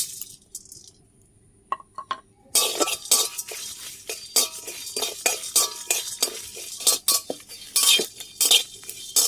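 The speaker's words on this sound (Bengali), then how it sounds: "এইগুলো ভেজে নেব সব একসঙ্গে দিয়ে দেবো" Dry whole spices including black pepper, fennel, dried red chilli and panch phoron are roasted in a pan for chalta pickle, with a metal spoon clinking and scraping in repeated close strokes after a quiet start.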